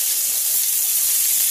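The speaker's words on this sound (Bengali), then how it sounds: "আলুটা ভাজা হয়ে গেছে" Potatoes fry in oil in a wok (kadai) while making ghugni, giving a close, steady, loud sizzling hiss without a break.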